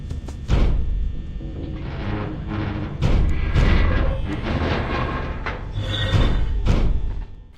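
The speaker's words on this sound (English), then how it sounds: "Foxy also received a new sound effect when he comes to bang on your door." Heavy booming bangs on a door from the animatronic Foxy in the video game Five Nights at Freddy's: Help Wanted, several loud thuds in irregular bursts with reverberant echoes between them.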